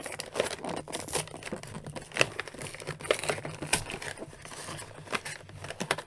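Plastic packaging crinkles and tears while a WWE action figure, Ricky the Dragon Steamboat or Rowdy Roddy Piper, is pulled from its stiff blister pack, with close, irregular crackles and sharp snaps continuing throughout.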